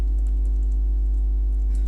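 Soft typing on a computer keyboard while working through a maths exam question, faint high keystroke ticks over a steady low hum, no talk.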